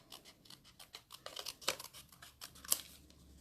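Paper being trimmed for a Christmas card craft, quiet close snips and scratchy cutting strokes in an irregular run, with no talking.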